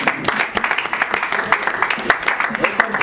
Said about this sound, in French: Applaudissez la levée de M.